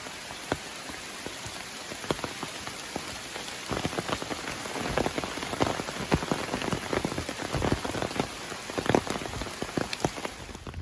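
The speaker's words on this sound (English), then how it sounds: "So it's started to rain." Steady rain patters on a surface on the Appalachian Trail in Vermont, with scattered louder drops landing close by throughout, no voices.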